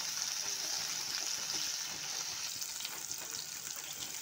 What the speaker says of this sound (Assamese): আমাৰ ভেন্দিখিনি ভজা হৈ গৈছে